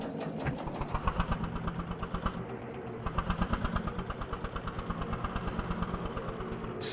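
A Lanz Bulldog tractor engine in Farming Simulator 22 thumps with a slow, steady single-cylinder chug that quickens slightly partway through, loud and close, with no voices.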